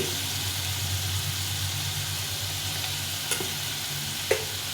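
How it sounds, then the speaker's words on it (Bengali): A ground spice paste with a little turmeric and water fries in oil while being stirred for a green rohu fish curry. It makes a steady, close sizzle, with a couple of brief scraping knocks from the spoon. "দিয়ে এটাকে ভালো করে কষিয়ে নিই তেল ছাড়া অবধি ভালো করে কষে নিতে হবে"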